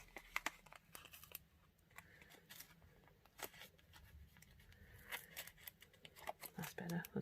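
Scissors snip and trim stamped paper cards at a crafting table, with brief crinkly cuts and paper handling sounds in short bursts, close and fairly quiet, with a voice speaking intermittently over the work.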